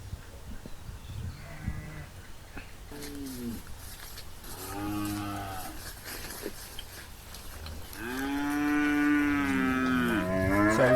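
Cattle on a rural farm in Thailand moo loudly and close by, with several drawn-out calls of rising strength. A longer, louder moo near the end sits over a low background rumble.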